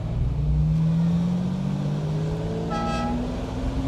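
A 1974 Jaguar E-Type Series III gives a short horn toot near the end while driving, the engine droning steadily underneath throughout.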